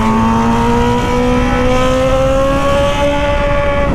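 A Honda Hornet motorcycle fitted with an Atalla 3-inch 4x1 exhaust revs loudly and close up, its engine tone climbing smoothly and continuously with no pauses.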